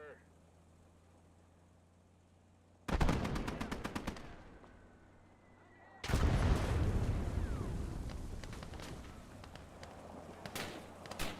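Loud bursts of cannon fire from a video game: a rapid volley, a lull, then a heavy blast with a long rumbling tail and a few later shots.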